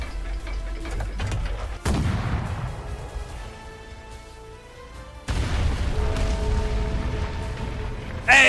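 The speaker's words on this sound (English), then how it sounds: "The cannon strikes the giant bell at the center of Octarig" A cannon fires and strikes a giant ancient bell in the Arknights video game. Two loud booms come several seconds apart, each followed by a long ringing decay of overtones.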